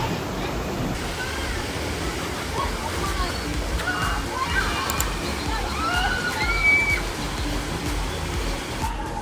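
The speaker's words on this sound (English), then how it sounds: "That's a lot of water being moved around." Water sloshing and rushing around a rapids ride at an amusement park, a continuous broad wash of churning water with faint voices and scattered shouts mixed in.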